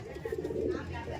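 A young BBC racing pigeon coos in a short, soft, low murmuring phrase that swells in the middle, close by with faint background noise.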